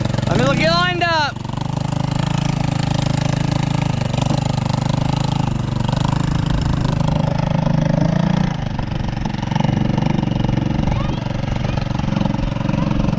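Free scooter with an exhaust leak: a small engine running loud and close, with a steady rough putter and a brief rev at the start, while people talk over it.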